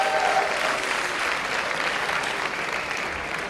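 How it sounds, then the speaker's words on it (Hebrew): Sustained applause from an audience at a ceremonial evening gathering, a full, dense roar of clapping that starts strong and gradually eases slightly toward the end. "נראה כמה זמן תחזיקו מעמד עם המחיאות כפיים"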